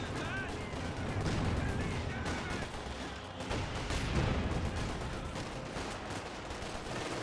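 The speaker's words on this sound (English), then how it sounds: "Frag grenade here." Gunfire and a frag grenade blast in the real-time strategy game Company of Heroes 2, a dense continuous battle rumble with scattered shots at steady loudness.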